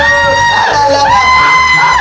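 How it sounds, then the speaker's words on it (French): Several people yell and shout loudly at close range, voices overlapping in excited, high-pitched cries that fill the whole moment without a break. "Arrête de crier!"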